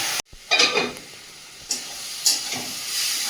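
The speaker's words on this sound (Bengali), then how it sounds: "আদা রসুনটা দিয়ে ভালো করে ভেজে নিলাম" Ginger and garlic frying in a small amount of oil, a soft sizzle broken by a few sharp stirring scrapes and hissing bursts, close and fairly quiet.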